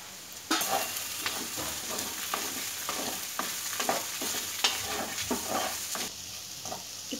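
Potatoes fry in a pan with turmeric, chilli, coriander and fennel powders and salt, a steady close sizzle broken by repeated scraping stirs of a spoon against the pan in an uneven rhythm.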